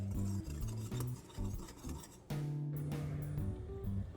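Sifted flour and cocoa powder are stirred together in a mixing bowl, giving soft, steady scraping and brushing strokes beneath quiet background music.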